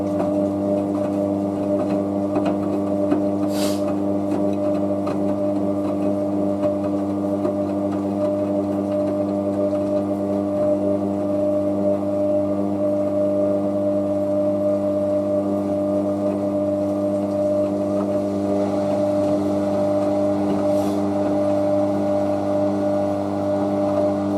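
A Hotpoint Aquarius WM63 washing machine on an intermediate spin cycle during an acrylics 40°C programme, a steady humming motor drone with a constant whine, close and unbroken throughout.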